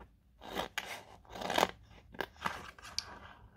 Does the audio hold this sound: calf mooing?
no